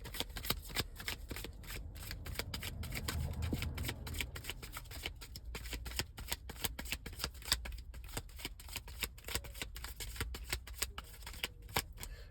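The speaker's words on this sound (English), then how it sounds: "I'll do one more shuffle." A tarot card deck being shuffled, a close, soft run of rapid riffling card flutters repeating steadily with no voice.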